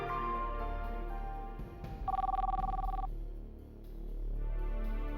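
Cell phone ringing: a single roughly one-second electronic ring tone stands out over a low rumbling background, moderately loud, with no clear speech.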